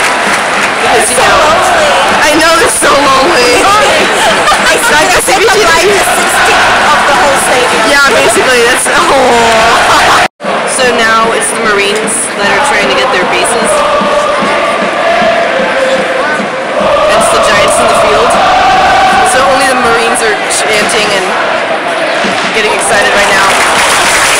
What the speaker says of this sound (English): now only the Marines are the ones cheering